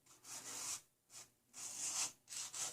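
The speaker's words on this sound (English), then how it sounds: "You don't want to sand those off, but you do occasionally want to sharpen them." Metal tweezer tips are rubbed back and forth on sandpaper to sharpen them, giving four close, gritty scraping strokes separated by brief pauses.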